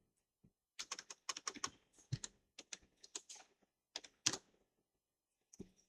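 Fingers typing on a computer keyboard while writing an Upwork profile, a quiet, close run of irregular key clicks and taps with short pauses between bursts.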